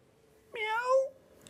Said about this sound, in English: Oh, well, I think that was a cat, Amy.